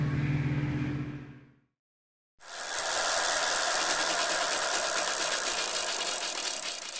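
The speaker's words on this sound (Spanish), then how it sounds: "Lancha neumática." Outboard engine of an inflatable motorboat, a loud steady drone with rattling texture that runs continuously after a brief fade and a short gap of silence.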